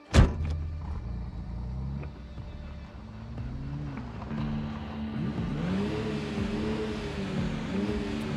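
A truck in the video game Project Zomboid pulls in to park, its engine humming low and steady with a rising rev and shifting tones toward the end, closing with a brief thump.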